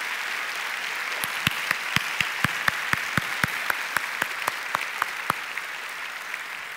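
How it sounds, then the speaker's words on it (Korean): A church audience claps in steady, evenly spaced beats for about five seconds, sharp and distinct over a low murmuring room hum. "뜨거운 박수 한번 부탁드립니다."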